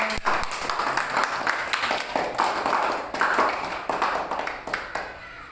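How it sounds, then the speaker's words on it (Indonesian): Classroom students clap for group 3 after a presentation, a close, lively burst of many hands with a loose rhythmic pulse that carries on for several seconds. "tepuk tangan buat kelompok 3"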